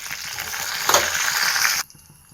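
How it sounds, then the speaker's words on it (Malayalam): Mustard seeds and fenugreek dropped into hot oil for a Kerala tamarind curry crackle and sizzle loudly up close, a dense spitting hiss that cuts off sharply near the end. "എണ്ണ ചൂടായതിന് കടുകിട്ട് കൊടുക്കാം, ഉലുവ ഇട്ട് കൊടുക്കാം"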